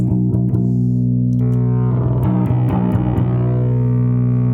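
A bass guitar plays a steady low riff through a preamp with slight grit and bright attack, sustained notes ringing close and loud without any voices.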